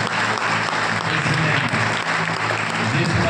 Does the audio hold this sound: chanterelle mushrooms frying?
no